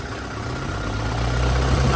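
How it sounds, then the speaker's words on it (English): A Volvo engine in a 2013 Volvo EC160DL excavator idles with a steady, close, low diesel rumble and smooth vibration for the whole stretch, gradually growing a little louder, with no voices. "That's the Volvo engine."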